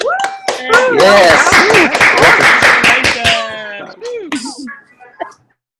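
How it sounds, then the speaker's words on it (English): An audience claps at a presentation, loud, fast clapping swelling up with whoops and voices mixed in, then dying away into a few scattered claps and quiet at the end. "Let's give them a big round of applause."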